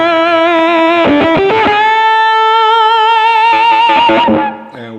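Electric guitar through a JAM Pedals Octaurus stacked with a fuzz pedal, gain rolled down: a few quick picked notes, then a long sustained, mildly distorted chord ringing loud before a brief flurry and a stop.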